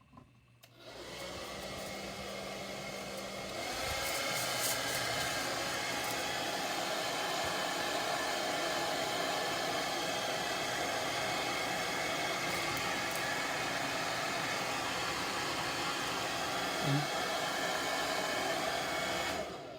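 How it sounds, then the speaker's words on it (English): A hair dryer runs steadily and loudly for the whole stretch, heat-setting airbrushed paint on popper-head fishing flies, with a constant broadband whoosh and no talk. "now we'll heat set this with the dryer"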